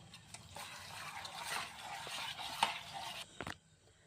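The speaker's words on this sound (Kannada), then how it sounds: "ನೀರು ಸ್ವಲ್ಪ ಹಾಕೊಂಡು ಕಲಿಸ್ಕೊಳ್ಳೋಣ," Flour batter being mixed with a little water for a quick snack, producing a wet, sloshing stir with soft scraping against the bowl, close and fairly quiet, ending in a few sharper clinks.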